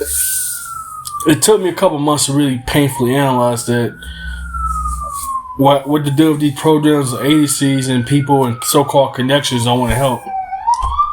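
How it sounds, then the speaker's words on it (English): An emergency vehicle siren wails outside, its pitch sweeping up and down steadily throughout, moderately loud beneath someone talking continuously. "Damn sirens"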